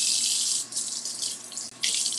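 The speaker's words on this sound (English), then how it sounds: "I'm going to wash my hands" Tap water running steadily into a kitchen sink during hand washing, a continuous near hiss that briefly dips and resumes, with no talking.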